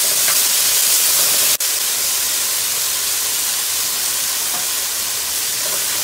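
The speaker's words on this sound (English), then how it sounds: "you put the green onion in, stir it and turn off the heat." Bitter melon stir-fried with beef and green onion in a hot pan, a continuous loud hissing sizzle with a brief break near the start.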